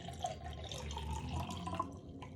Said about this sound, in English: I have a cup of water, and I'm going to pour it into my glass